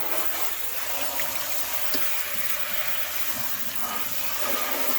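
Hot water from a kitchen sink sprayer hisses and splashes steadily into a cat's water bowl, a continuous close rushing spray with no talk.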